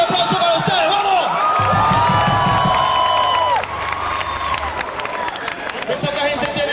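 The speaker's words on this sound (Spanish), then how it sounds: "¡Un aplauso para ustedes!" A crowd at a live metal concert cheers and claps loudly, with whoops and shouts rising over a continuous wash of applause.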